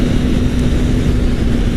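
A Kawasaki Ninja 300 motorcycle engine at wide open throttle in sixth gear, a loud, steady, droning buzz with a constant pitch and strong rumble, heard up close with no talking.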